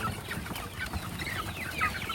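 Chickens clucking close by in a farm coop at feeding time, several birds making short overlapping clucks and chirps against a busy outdoor background.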